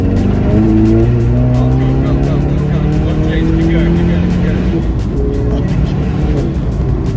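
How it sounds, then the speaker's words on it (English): A 400 bhp VW Polo GTI fitted with a Golf R turbo accelerates hard, its engine note loud and continuous as rising harmonics climb through the gears, with a voice talking over the drive. "It is actually mad how fast this little car is."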